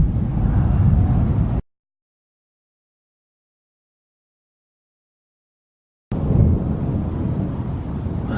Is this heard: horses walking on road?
no